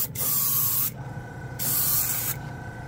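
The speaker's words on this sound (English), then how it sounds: "It's like a controlled spray can." A $40 Master side-feed airbrush with a 0.8 mm needle sprays paint from about four inches away, a steady hiss in two long bursts separated by short pauses, close and fairly loud.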